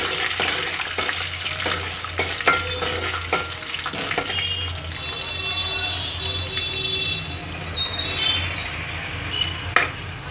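Carrot fry cooking in a pan, with dried red chilies and curry leaves sizzling in oil while a spoon stirs and scrapes intermittently, close and fairly quiet, with a voice speaking softly at times.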